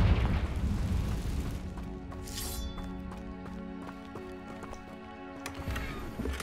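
A Confringo blasting curse explodes in Hogwarts Legacy, a loud booming burst up front that rolls into a long rumbling, crackling tail with sustained game-score tones underneath.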